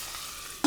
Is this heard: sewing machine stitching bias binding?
no